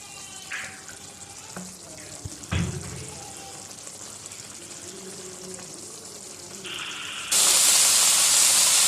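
Keema simmers in a pan as its released water cooks off, with soft bubbling and sizzling, a few clanks and stirring knocks, then a loud steady steam hiss rising near the end.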